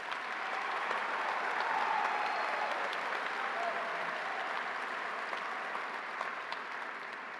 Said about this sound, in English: Could you please join me again in a round of applause for these graduates?